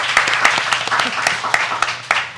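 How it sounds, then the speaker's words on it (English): Audience applause at a Black Food Summit design panel, steady dense clapping from a crowd filling the whole stretch, fairly loud and close with no speech over it. "So again, round of applause for everyone."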